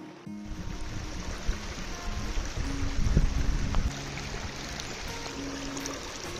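River water rushes and gurgles steadily at close range in a local nature spot, a broad continuous wash with no voices.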